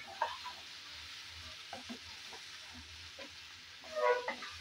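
Taro stolons (kochur loti) with kasundi being stir-fried in a pan, a soft steady sizzle under intermittent scraping stirs, with a louder clatter of stirring near the end.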